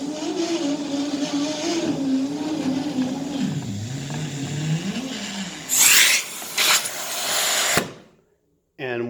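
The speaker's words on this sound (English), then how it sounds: "with my hand on the hose handle, this will start bringing the hose back up" A Chameleon retractable-hose central vacuum draws its hose back into the wall valve: a loud airy rush in several bursts over about two seconds, right after someone talks over a steady motor hum.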